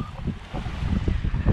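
Gusty wind while under sail on a sailboat with self-steering makes a steady low rumble and rush, with soft irregular thumps underneath at moderate level.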